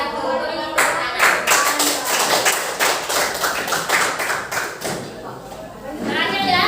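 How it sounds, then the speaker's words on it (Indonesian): Classroom applause after a group presentation: a dense run of many hands clapping, fairly close and loud, lasting several seconds before fading, with voices heard around it. "Beri tepuk tangan."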